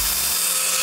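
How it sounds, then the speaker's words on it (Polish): A small drill whines at a high pitch in a brief, steady burst, loud and close. "Zaczynamy od mniejszego wiertełka dla bezpieczeństwa."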